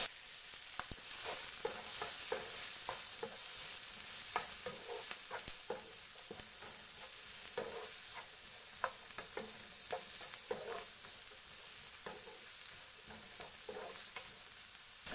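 Onions sizzling in a pan for butter chicken masala, a steady fry with frequent sharp scrapes and clicks of a spoon stirring them, fairly quiet and with no talk.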